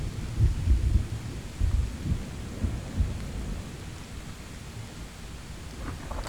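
Low thunder rumbles in the video game Road to Vostok roll in and out over a steady rain patter, the deep booms strongest early and fading toward a quieter wash.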